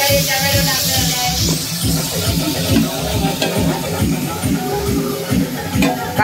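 Onion and tomato fry in hot oil while biryani is made, giving a steady, dense sizzle with irregular stirring and scraping strokes throughout, and faint voices in the background.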